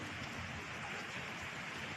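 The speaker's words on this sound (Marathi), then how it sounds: "आत्ताशी पावसाला सुरुवात आहे" Rain falls at the start of the rainy season on a house with soaked walls and a roof, making a faint, steady hiss of drops throughout.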